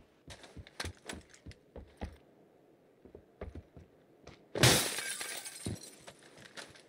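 Glass shatters in one loud, bright crash, with a short trail of falling shards, amid scattered sharp clicks and taps before and after.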